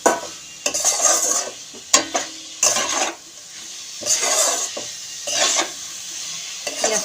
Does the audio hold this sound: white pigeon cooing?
no